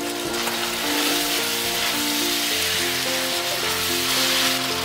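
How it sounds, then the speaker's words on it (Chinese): A big spoonful of vinegar hits a hot wok of chicken with bean paste for Zaozhuang spicy chicken, bursting into a loud, continuous, crackling sizzle with faint ringing tones throughout. "然后淋入一大勺醋"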